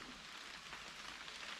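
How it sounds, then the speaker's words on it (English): Rain falls in the Fraser Island rainforest as a soft, even hiss, faint and steady, with no voices. "And yes, it is raining in the rainforest."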